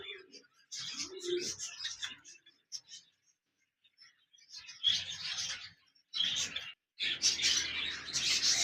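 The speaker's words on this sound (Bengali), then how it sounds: "এখানে দেখতে পাচ্ছেন একজোড়া লাভবার্ড পাখি রয়েছে" A pair of lovebirds kept at a bird farm chirp in bursts of sharp, high twittering calls, close by, with quiet gaps between, and a person talking softly early on.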